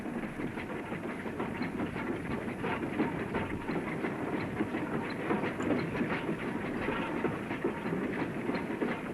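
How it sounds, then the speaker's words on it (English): Goods train running on a single-track branch line across the fringe of Sedgemoor, heard from the footplate: a steady, continuous rumble and hiss with rhythmic clickety-clack of wheels on rail, close and even throughout. "See the fringe of Sedgemoor from the footplate of a goods train."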